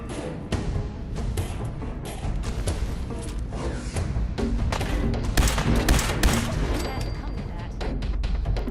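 Gunfire in the video game Fallout 4 during a fight with triggermen, rapid irregular bursts of shots with thumping impacts layered over game music and ambience, loud and close throughout.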